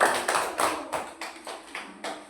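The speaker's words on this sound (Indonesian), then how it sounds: "Kita beri tepuk tangan untuk kelompok 1." A classroom of students applauds for a group, a loud series of about eight rhythmic claps in quick succession, close and without talk.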